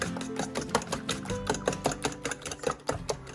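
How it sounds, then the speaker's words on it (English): A fork whisks eggs in a bowl, making quick, regular clicking taps against the sides in a steady rhythm for a few seconds, close and moderately loud, with no talking. "Just whisking the egg together."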